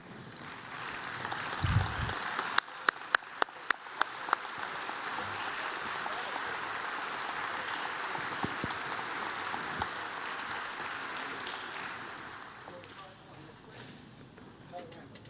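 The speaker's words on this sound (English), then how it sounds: "I'd like to ask those Eagles to stand and give them applause" Sustained applause from a banquet crowd honoring Eagle Scouts at a Middle Tennessee Council dinner, steady and full across the room, with a few sharp knocks early on and fading slightly toward the end.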